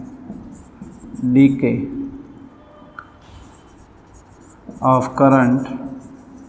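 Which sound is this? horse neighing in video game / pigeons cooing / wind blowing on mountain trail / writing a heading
writing a heading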